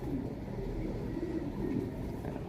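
A racing pigeon coos softly in low, murmuring tones over a constant background rumble, with no clear talking.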